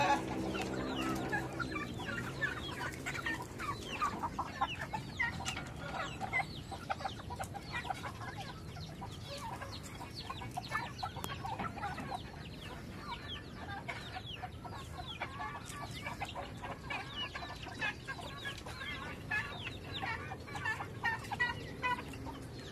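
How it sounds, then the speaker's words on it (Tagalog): Hens cluck and chatter continuously, several birds nearby in a poultry yard also keeping turkeys, with busy overlapping calls and small scratching noises around them. "Mga manok niya."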